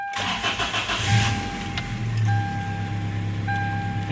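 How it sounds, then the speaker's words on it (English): The engine of a 1998 Toyota Tacoma idles while warming up, a close, steady low rumble with a faint whine and a slight surge in revs early on. "I already have the engine running for a little bit, so it's warming up"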